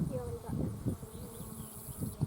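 Honeybees buzzing at an open beehive frame, a steady close drone with pitch wavering as individual bees pass near, alongside soft handling noises.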